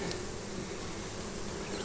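Honey bees buzz in a dense, steady hum from an open hive during a frame inspection, close and quiet, with no voices over the brief stretch.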